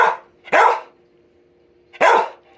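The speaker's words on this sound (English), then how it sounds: "a lot of people don't like the barking" A dog barks three times indoors, loud and close, with short sharp bursts separated by brief pauses.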